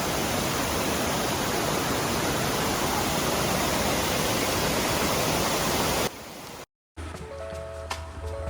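Thusharagiri waterfall in Wayanad, Kerala, pours with a steady, loud hissing roar for about six seconds. The sound then drops to a quieter level, cuts out briefly, and returns as fainter ambient noise.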